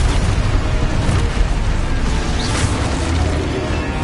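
Confringo blasting spell in a wizarding video game, a broad roaring explosive rumble that swells and lingers across the whole stretch, heavy and loud with no voices.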